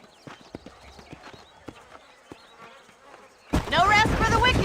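Horse hooves clip-clop on dirt in the western video game Red Dead Redemption, sharp irregular steps under faint buzzing insects. Someone speaks loudly near the end.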